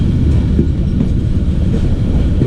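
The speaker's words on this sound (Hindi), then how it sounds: "भावलपुर रेलवे स्टेशन पे अप्रोच कर रही है 40 डाउन जाफर एक्सप्रेस।" The 40 Down Jaffar Express rolls into Bahawalpur railway station with a loud, steady, deep rumble of wheels and carriages, close by and continuous throughout, with no voices over it.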